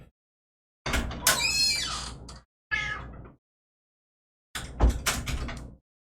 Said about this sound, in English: My cat is freaking out, wants to come in and join me.